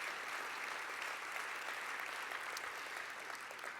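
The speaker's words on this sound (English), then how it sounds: "that's worth an applause" Applause from the audience at the Utah Global Forum 2015 during a governor's speech, a soft, distant, even wash of clapping sustained throughout.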